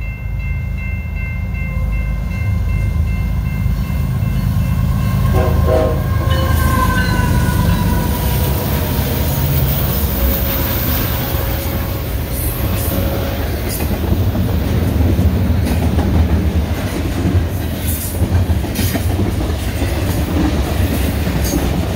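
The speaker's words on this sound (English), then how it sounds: "and here comes the train." Train rolling past a pedestrian crossing in winter, a loud, continuous rumble with clattering wheels and faint squealing that carries steadily for over twenty seconds.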